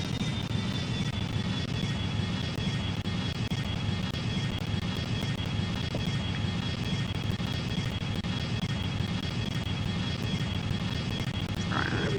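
Steady, continuous roar of Airbus A321 engines in the Extreme Landings flight sim game, a broad even drone with a faint high whine, unchanging and loud throughout.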